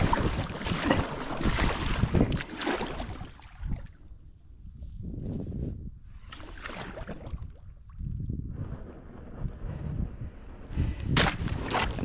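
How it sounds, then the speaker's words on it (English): River ice on the Black River cracks and grinds against the hull of a small boat, coming in close, crackling bursts that fade to near quiet between them, with wind noise underneath. "You can hear the ice cracking, kind of like electricity."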